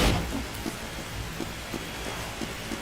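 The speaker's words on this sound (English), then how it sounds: "for a map that's raining, it really doesn't do anything for the fire" Steady rain falls across a map in the video game Team Fortress 2, a dense hiss with faint periodic soft thuds, continuous and unbroken with no talking.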